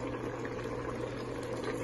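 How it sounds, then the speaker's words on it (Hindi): Water comes to a boil in a pot before rice is added, a steady low bubbling rumble and hiss with no voices. "ये इसको उबाल आ रहा है"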